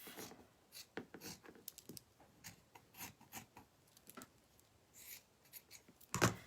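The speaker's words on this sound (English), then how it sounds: "we're going to cut a square piece like this" Scissors cut drop cloth fabric into a square piece for a table runner, making a series of quiet, irregular snipping and rustling sounds, close by and with no voice.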